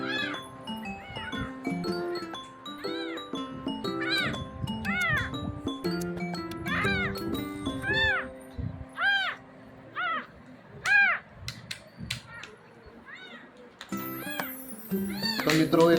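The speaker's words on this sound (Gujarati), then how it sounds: "આજે બિલાડીનું બચ્ચું એકદમ બિલાડી મૂકીને જતી રહી છે" A kitten left behind by its mother meows repeatedly and insistently at close range, high rising cries coming in quick succession with short pauses and one louder cry near the end.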